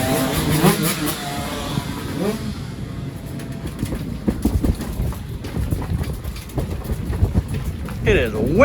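Gusty wind blowing outdoors on a windy day in Illinois, a steady broadband rush buffeting the microphone throughout, with faint talking mixed in.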